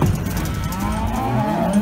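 Cows on a farm bawling loudly and close, with deep drawn-out moos overlapping as several animals call at once.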